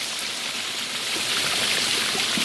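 Clear mountain water rushing steadily along a stream at a resort in San Luis, Aurora, a loud, continuous close-up wash with no voices over it.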